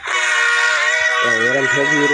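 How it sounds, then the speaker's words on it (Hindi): A loud local train horn blares steadily, its tone shifting and wavering partway through as the train passes close by. "वो तो ऑटोमेटिक ट्रेन है लोकल ट्रेन"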